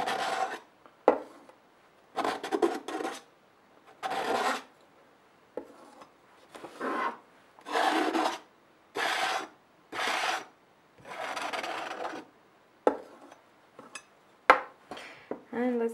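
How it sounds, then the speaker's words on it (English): A tool scrapes excess paste off a stencil on canvas in short, repeated raspy strokes, each a brief gritty scrape followed by a pause, close and fairly quiet. "now I'm just going to scrape some of this excess off and put it back into the jar"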